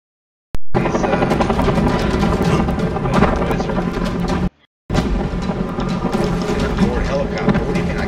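A helicopter in the video game Dying Light gives a loud, continuous rotor and engine roar that starts abruptly, cuts out briefly in the middle and then resumes.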